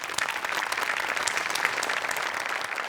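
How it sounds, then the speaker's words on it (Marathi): A studio audience at a Marathi comedy show breaks into dense, steady applause, many hands clapping together at close range without a pause. "धनंजय, तुझ्याकरता एकदा टाळ्या."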